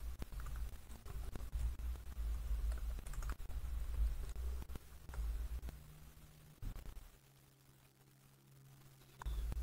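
Someone types assembly code on a computer keyboard, producing a fast, uneven run of close keystroke clicks that trails off into a quieter stretch with just a few isolated taps.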